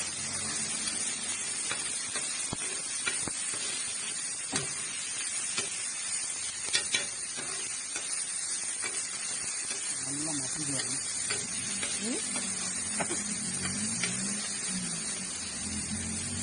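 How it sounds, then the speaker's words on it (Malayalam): Sliced onion and a little chili frying in a bit of oil while being stirred, a soft steady hiss with scattered light scraping clicks, fairly quiet throughout with no talking. "സവാള ഒഴിച്ചു, അതിൻ്റെ കൂടെ ഇച്ചിരി മുളകിട്ടു, എന്നിട്ട് ഇച്ചിരി എണ്ണ ഒഴിച്ചിട്ട് ഇളക്കുവാണ്"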